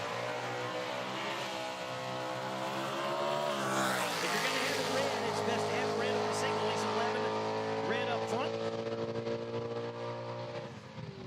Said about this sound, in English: That's an impressive running Camaro